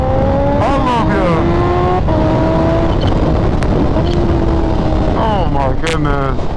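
A Kawasaki Ninja H2R motorcycle engine revs hard and close, its pitch sweeping up and down in repeated surges over a loud, constant roar.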